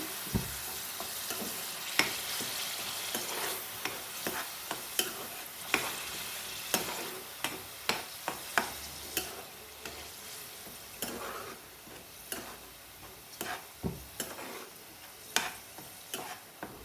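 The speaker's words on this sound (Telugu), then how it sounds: "ఈ ఆయిల్లో పచ్చి వాసన పోయేంత వరకు ఈ ఉల్లిపాయను వేయించుకుందాము" Sliced onions frying in hot oil for a spicy prawn curry, a steady soft sizzle broken by repeated scraping and tapping from stirring, close and quiet, with no voices.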